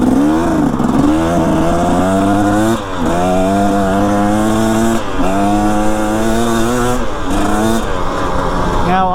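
A motorcycle engine drones loudly as it is ridden, with repeated rises and drops in revs as the rider shifts gears, and wind noise runs underneath.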